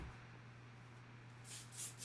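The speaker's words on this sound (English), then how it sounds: "I'm just going to pull my hair up and spray as it falls." Hairspray is sprayed onto lifted hair in two or three quick hissing bursts near the end, faint and close after a quiet room hum.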